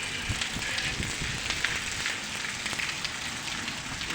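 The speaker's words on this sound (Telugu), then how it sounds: "వర్షం వస్తుంది గట్టిగా" Heavy summer rain pours steadily in a thunderstorm, a dense even hiss with scattered crackling drops on hard ground, continuous and close.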